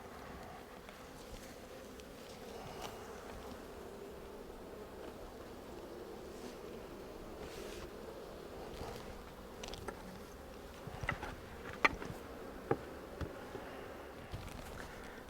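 A steady, dense hum of many honey bees buzzing continuously inside a hive, with occasional louder buzzes and faint clicks passing close.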